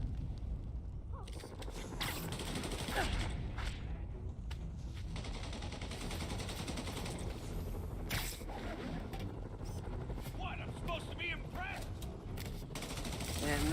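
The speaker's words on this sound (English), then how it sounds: "we have reports of gunfire coming from multiple vehicles" Gunfire in an Ultimate Spider-Man video game: bursts of shots and rattling automatic fire crackle through a busy, noisy mix of game sounds, fairly quiet overall, with sharp cracks standing out at intervals.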